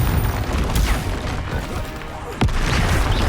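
A Confringo spell blast in Hogwarts Legacy battling mountain trolls: a loud, sustained rumbling roar of combat with a sharp crack-like burst partway through, dense and close throughout.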